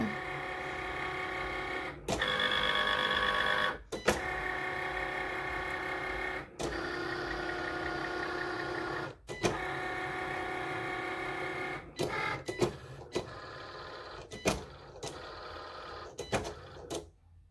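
An electronic cutting machine scores and cuts lip gloss boxes with a steady mechanical whirring hum, broken by short pauses and clicks as the carriage stops and changes direction, then quicker stop-start bursts toward the end, close and fairly quiet.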